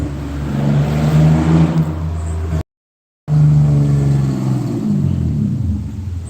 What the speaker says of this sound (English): Purple BMW.